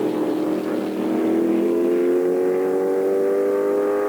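An orange McLaren Formula 5000 race car, an uprated M10B, runs at a Ruapuna track meeting with a loud, sustained engine note that climbs steadily in pitch as it accelerates, with no talking.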